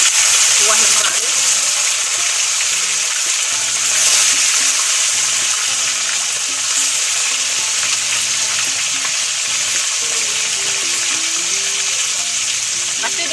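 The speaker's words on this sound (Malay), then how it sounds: "Kita goreng dulu ikannya ya. Ini ikan sardin." Sardines frying in oil in a pan for a coconut-milk lemak dish: a loud, close, hissing sizzle that runs steadily throughout, with faint low tones in the background.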